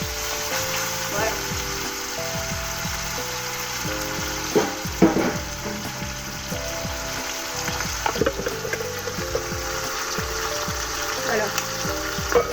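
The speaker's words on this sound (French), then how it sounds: "On va les bien faire dorer." Meat and vegetables browning in a pan for an Algerian couscous, a steady sizzle with intermittent stirring scrapes and a few louder clacks, while someone talks quietly underneath.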